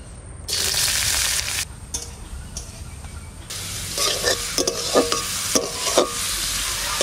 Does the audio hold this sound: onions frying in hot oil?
yes